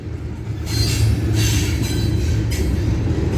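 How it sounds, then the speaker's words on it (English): A freight train with tank cars rolls past close by in Gómez Palacio, Durango, Mexico, its loud, continuous low rumble mixed with rattling wheel clatter and faint metallic squeal. "I see a train."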